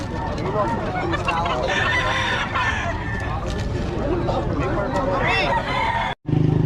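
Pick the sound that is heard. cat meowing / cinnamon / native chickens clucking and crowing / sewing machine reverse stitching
native chickens clucking and crowing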